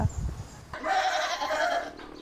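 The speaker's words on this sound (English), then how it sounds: "From a herd of around 30 goats, Rasmi produces 15 varieties of cheese" Goats from a herd of around 30 on a cheese-making farm bleat, with one long, wavering, nasal bleat standing out close by after a few low rustling thumps.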